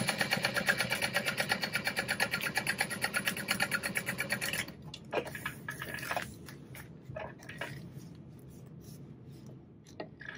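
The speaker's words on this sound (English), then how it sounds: "Top stitching on the top edge." A sewing machine top stitches along the top edge of a fabric backpack, running in a fast, steady, close-up stitching rhythm for about four seconds, then stopping, followed by a few scattered handling clicks.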